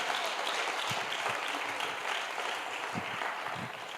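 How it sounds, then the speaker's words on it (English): Audience at a church talk on marriage applauding, a steady wash of many hands clapping at moderate distance for several seconds with a few louder nearby claps. "let's clap hands for him."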